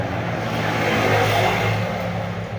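A motor tricycle rolls past at close range, its steady engine drone and harmonic hum holding loud and even throughout with no voices over it.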